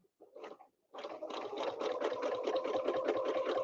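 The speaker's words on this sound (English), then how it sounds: "On the top means I'm going to double stitch on the top." A sewing machine double-stitching during free-motion ruler work on a quilt runs in a steady, close buzzing whir after a brief short burst and pause.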